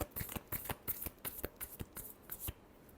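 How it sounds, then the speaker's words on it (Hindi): A deck of tarot cards is riffled and shuffled up close, quick crisp bursts of flicking cards in an uneven rhythm, alone without talk. "last shuffle"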